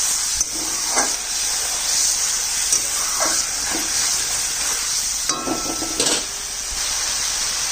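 Poppy seed paste being stir-fried (kosha) after water is added, giving a loud continuous sizzle and hiss close up, broken by repeated scraping stirs of a spatula, with no voices.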